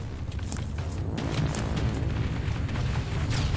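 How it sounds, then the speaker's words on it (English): Explosions in the video game Terminator: Resistance, a continuous rumbling roar of blasts with scattered pops and bursts, loud and dense throughout. "Explosion! So many explosion."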